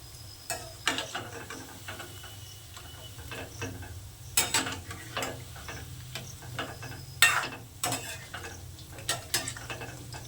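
Banana fritters frying in a pan give a soft, low sizzle under sharp clicks and scrapes of a utensil against the pan, the knocks coming at irregular intervals and a few of them louder.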